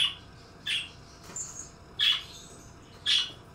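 A pet bird in a home squawks in answer to other birds kept in the living room, giving four sharp shrill calls at a steady spacing, fairly close and loud above a quiet room background.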